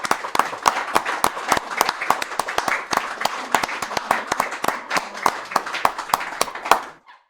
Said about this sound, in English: This great big applause is dedicated for every one of us.